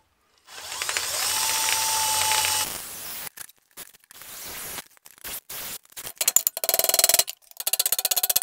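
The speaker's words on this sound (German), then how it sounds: "Bohr jetzt hier einfach mal ein Loch rein" A drill bores a hole into a classic BMW E12 525 during maintenance, a close steady whir for about two seconds followed by a run of sharp, irregular bursts and clattering stops.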